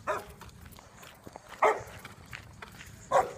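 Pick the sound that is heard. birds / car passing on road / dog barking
dog barking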